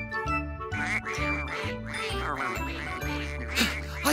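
Cartoon ducks in a children's alphabet song quack repeatedly and loudly over a bouncy musical backing, the calls overlapping in quick succession.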